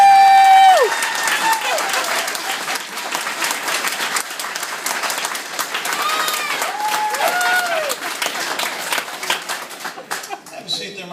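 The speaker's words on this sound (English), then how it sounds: "Big round of applause." A room full of people applauds at a stage hypnosis show, a long sustained burst of clapping that gradually thins and fades toward the end, with some whooping and chuckles mixed in.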